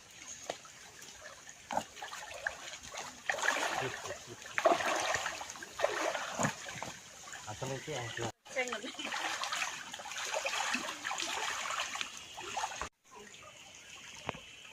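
Stream water flowing and trickling steadily nearby, a continuous gurgling wash with small splashes, heard under faint background noise with brief dropouts.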